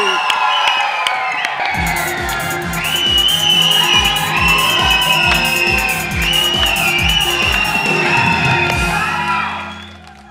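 Audience at a Nepali comedy show cheers, whoops and applauds loudly to welcome a guest singer, with steady clapping and shouts sustained throughout before fading at the end.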